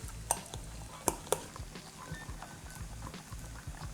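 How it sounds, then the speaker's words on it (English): Mushroom powder is being stirred into a coconut cream sauce for spaghetti, with a few sharp utensil clinks against the pan over a soft, quiet stirring texture. "Give that a mix."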